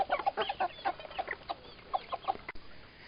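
Naked neck hens, large heavy laying birds in a crowded poultry house, cluck in short repeated bursts, several birds close by overlapping in quick irregular rhythm, with no voices.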